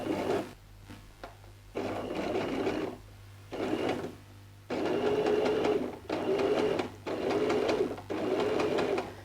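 A sewing machine stitching a zigzag stitch along the shoulder seam of a stretch-fabric T-shirt, running in several bursts of a few seconds each with a whirring, rattling motor and short pauses between runs.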